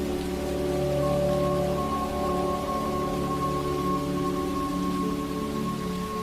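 Steady rain falls outside in a constant, even wash of patter, moderately loud and unbroken, with a faint low hum beneath and no voices.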